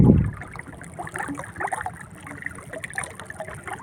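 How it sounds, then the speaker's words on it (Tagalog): A strong sea current rushes and gurgles steadily past a moored boat, with a brief low thump at the start and continuous splashing texture throughout. "Hindi ko akalain ganito pa pala kalakas tong dagat, yung agos ng dagat."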